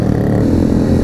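A motorcycle engine roars loudly and steadily close by while the rider pulls a big wheelie, a dense, sustained drone with no break.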